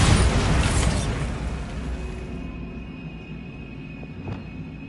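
Bombarda spell exploding in Hogwarts Legacy, a loud close blast at the start whose rumbling debris and reverberation slowly fade over several seconds, alone.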